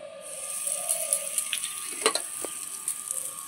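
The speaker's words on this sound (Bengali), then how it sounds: "গোটা গরম মশলা, তেলের মধ্যে একটু নেড়ে নেব, সামান্য একটু হিং" Whole garam masala with a pinch of asafoetida fries in oil, a soft steady sizzle broken by a few light scrapes and taps of stirring, close and fairly quiet.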